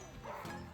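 A brief, faint yip from a sled dog puppy, a quick high bark-like sound.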